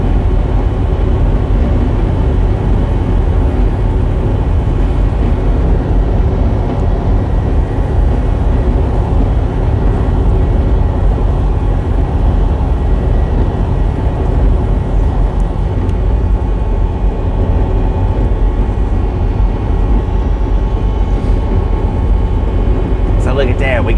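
Low-flying airplane passing overhead near an Air Force Base in Midland, Texas, a steady loud roar that fills the whole stretch over road noise from a moving vehicle.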